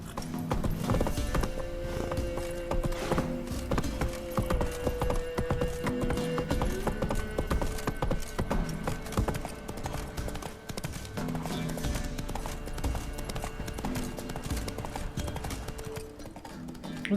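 Hooves of Roach the horse clip-clopping in The Witcher 3, a steady rhythmic trot heard alongside game music and ambient sound, moderately loud throughout.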